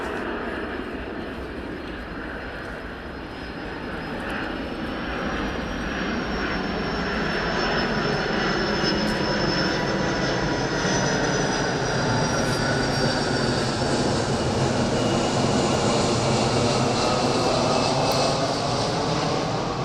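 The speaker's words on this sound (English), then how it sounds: "Let this plane go by real quick." An airplane roars overhead, its broad engine drone swelling and holding steady for a long stretch, with a thin whine drifting in pitch.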